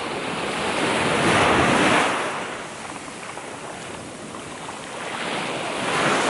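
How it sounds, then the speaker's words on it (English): Rough sea waves surging and breaking in the morning, a steady broadband roar that swells loudest around the second and sixth seconds, with wind buffeting the microphone and no voices. "see the water there, water kind of rough this morning"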